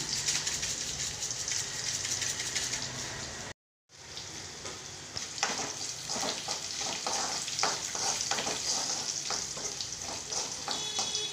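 Onions frying in a pan during home lunch cooking give a steady close sizzle with stirring scrapes, broken by one brief silent gap; no one speaks.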